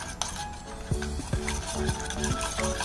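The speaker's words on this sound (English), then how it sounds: "Mix it well." A chicken mixture is mixed with Szechuan sauce in a bowl, giving a run of soft, rhythmic scraping and clinking strokes, close and quiet, with no voices.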